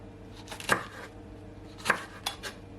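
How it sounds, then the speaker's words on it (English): A knife chops chili peppers into small pieces on a board in a few sharp, separate thuds with gaps between them, close and clear with no talking. "Okay, so you want to take a knife, just cut them up small."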